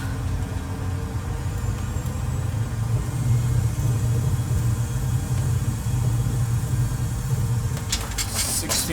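Airbus A320 engines in reverse thrust during landing rollout, a steady loud low roar and rumble heard from inside the cockpit, with a few faint clicks near the end.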